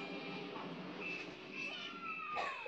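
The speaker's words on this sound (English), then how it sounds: "my cat wanted to be in here" A house cat meows a few times nearby, thin drawn-out cries rising and falling over a steady background of video game music and effects during a Mario Kart 8 Deluxe livestream.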